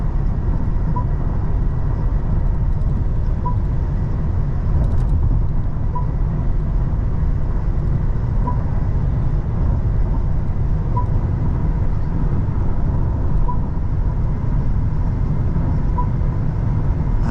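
Steady broadband road and wind roar inside a Mercedes-Benz GLS450d 4MATIC cruising at highway speed, a continuous low rumble with a faint recurring tick, no talking.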